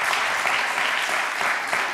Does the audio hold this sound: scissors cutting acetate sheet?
no